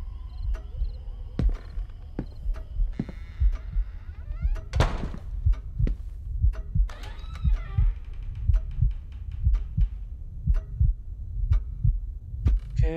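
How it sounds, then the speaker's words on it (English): A loud, steady heartbeat pulses in the Paranormal Activity VR horror game, thudding in a regular double-beat rhythm over a low hum, with occasional faint higher tones layered on top. "The heartbeat is not helping me, like the loud ass heartbeat."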